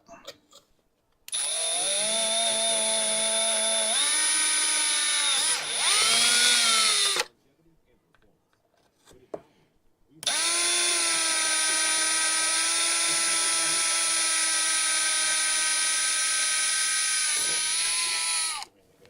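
A power drill whines loudly in two long runs while working on an X-Maxx RC truck, its pitch shifting as it bites, with a quiet gap between the bursts.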